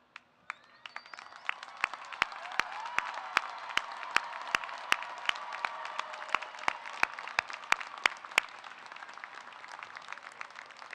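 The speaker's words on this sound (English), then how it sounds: "So if you are making history for your family today as the first to graduate from college, would you please cheer and stand if you are able?" Steady applause with scattered sharp claps and cheering from a large crowd of graduates filling a commencement hall, sustained throughout without speech.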